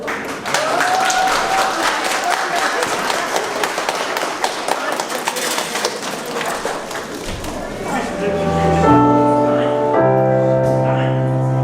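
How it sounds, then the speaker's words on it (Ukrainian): Loud, wild applause with cheering from wedding guests greets newlyweds before their first dance, dense clapping for several seconds, then music with sustained tones swells in as the clapping fades. "ми почуємо шалені оплески"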